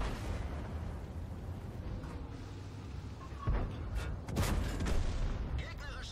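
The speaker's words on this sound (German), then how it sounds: "das war jetzt der vierte Schuss, der dritte Kill" An E-50 tank in World of Tanks fires its cannon with a sharp, heavy blast midway, and a second booming shot and explosion follow a moment later over steady low battlefield rumble.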